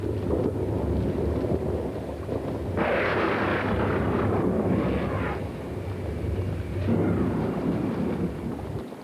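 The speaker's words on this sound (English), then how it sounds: "the loudest and most frightening sound here has been the tumult of these violent storms" Deep, rolling thunder rumbles continuously through a violent African thunderstorm, swelling into louder crashing peaks twice, with no voices.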